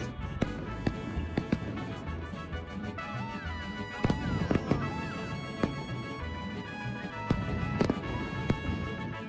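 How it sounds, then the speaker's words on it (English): Fireworks pop and crack in scattered bursts during a Mexican Independence Day celebration, the sharp reports standing out over a dense backdrop of crowd noise and music. "we've heard the incredible fireworks go up all around us"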